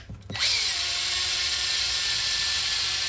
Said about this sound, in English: with the drill and wire brush you can do the job